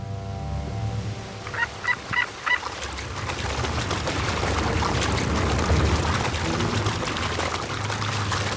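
A tightly packed flock of coots on the water at roost gives a few short honking calls in quick succession, followed by splashing and flapping commotion across the water.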